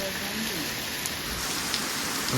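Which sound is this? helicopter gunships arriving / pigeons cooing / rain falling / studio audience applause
rain falling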